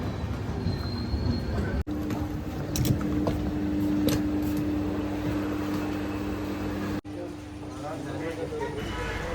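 Steady low rumble of a train with a sustained squealing tone, broken by brief gaps, under faint background voices and a station announcement.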